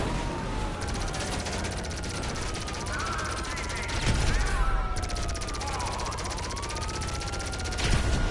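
Rapid automatic gunfire in GTA Online during a casino heist: a dense stream of shots runs nearly throughout, while wailing police sirens sweep up and down beneath, all loud and continuous.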